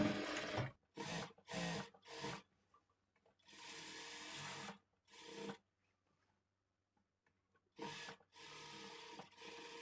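A sewing machine stitches frock fabric in short close bursts, several quick runs early on, a longer whir, then a pause before it starts up again near the end.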